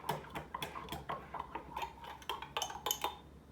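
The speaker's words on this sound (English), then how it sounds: "Now just take you a butter knife and just incorporate it together good." A butter knife stirs butter and honey together in a dish, giving a run of light scraping clicks and taps against the bowl at a steady, uneven rhythm, close up and quiet.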